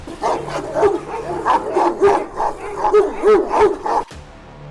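A large Kangal dog barks repeatedly in a steady rhythm, about eight deep, loud barks, close by, then stopping abruptly.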